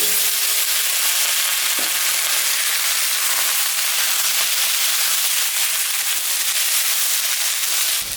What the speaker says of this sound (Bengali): পেঁয়াজটা ভাজা ভাজা হয়ে গেছে এখন আমি করলা বেগুন আর আলু দিয়ে